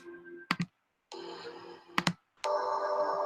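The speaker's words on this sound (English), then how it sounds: "this is the solfeggio tuning forks" Solfeggio tuning forks are struck twice, each sharp clack followed by a ringing, overtone-rich tone that sustains quietly until the next strike.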